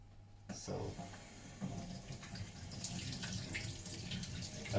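Tap water running over a sweet granadilla fruit as it is rinsed, a faint steady splashing stream under the sink that starts abruptly and continues with soft irregular spatter.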